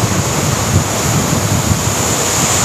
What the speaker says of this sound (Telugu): అత్తర్పల్లి వాటర్ ఫాల్స్.